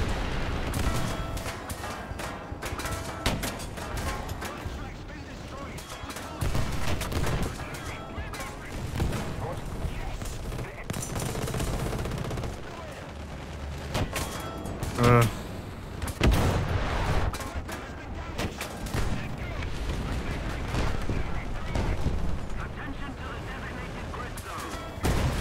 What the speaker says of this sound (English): Oh, I shouldn't have shot. I shot the player instead of the tank.